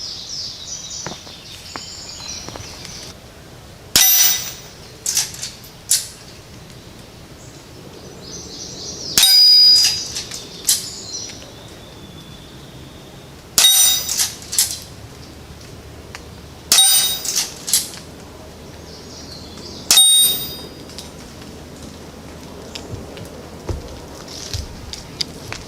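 Quiet Super Colibri rounds strike AR500 steel knock-down targets in five sharp metallic clangs, spaced several seconds apart. Each ring decays quickly over a faint outdoor background with no talking.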